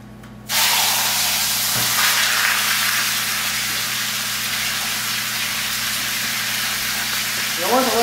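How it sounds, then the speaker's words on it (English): A leg of lamb sizzles loudly in hot olive oil, a steady hissing fry that starts abruptly after a brief quiet moment and holds constant, with a faint hum beneath and a voice briefly heard near the end. "You'll want to let it sit and brown for a little while."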